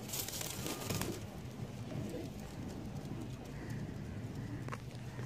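Soft pigeon coos from high-flyer pigeons sound faintly over a low rumbling background, with occasional rustles and shuffling nearby.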